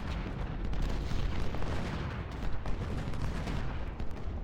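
Artillery fire on a Civil War battlefield in the Ultimate General: Civil War game: a dense, rumbling barrage of overlapping booms and cannon shots with scattered gunfire, continuous and loud, with no talking.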